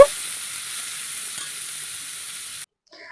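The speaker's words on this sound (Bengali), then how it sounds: "এখন চিংড়িটা দিয়ে দিচ্ছি চিংড়িটাও একটু ভেজে নেব" Shrimp frying in a pan, a bright, even hiss of oil spitting close by for a few seconds before cutting off abruptly into near silence.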